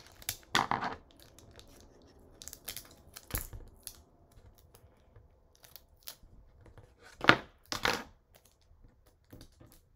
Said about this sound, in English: Use tape to tape the edges together.